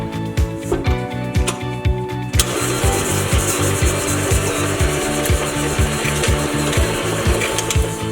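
An electric mixer beats cookie dough with sugar and almond extract, a loud, steady motor drone with a rapid rhythmic pulse, growing rougher and fuller partway through as the beaters work the mixture.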